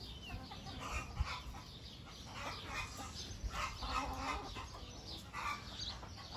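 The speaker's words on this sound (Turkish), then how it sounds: "Hala gıdaklıyor, bilmiyorum, duyuyor musunuz?" Backyard hens cluck and cackle repeatedly in a loud, uneven run of calls, as if one is laying an egg, with other flock noise behind and no talking.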